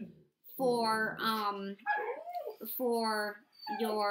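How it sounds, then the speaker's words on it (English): A dog barks and whimpers indoors, several close, loud, harmonic yelps and whines in uneven bursts, with a person speaking between them. "Excuse my dog. He won't stop."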